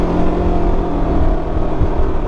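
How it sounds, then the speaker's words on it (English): A 2019 Can-Am Ryker 600 three-wheeler idles and revs after an exhaust gasket leak repair, its engine and exhaust a steady, loud, close drone with no one speaking. "now the exhaust sounds like a regular Ryker"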